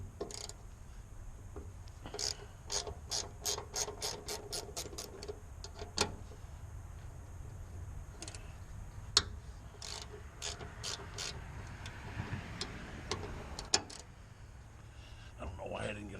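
Rapid metallic clicking of a ratchet wrench with a 17 mm socket working a filter on a Takeuchi TB135 compact excavator, bursts of ticks repeating in quick runs, close and fairly clear, with intermittent talk nearby.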